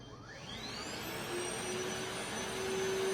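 A Milwaukee M18 3-in-1 cordless backpack vacuum starts up on its low setting, its motor whine rising in pitch as it spins up and then settling into a steady, moderately quiet drone.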